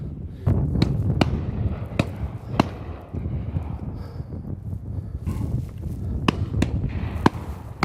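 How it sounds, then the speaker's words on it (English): Shotguns fire at a driven game shoot on the Drumbanagher Estate, a scattered series of sharp, fairly distant cracks ringing out every second or so over a low outdoor rumble. "Oh, good shot, Wilson."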